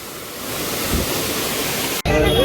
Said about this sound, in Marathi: इकडे बघा वरून पडणारा हा वॉटरफॉल खूप कमी पाणी आहे